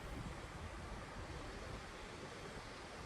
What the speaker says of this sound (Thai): ตอนนี้ก็ลมดีนะครับบริเวณนี้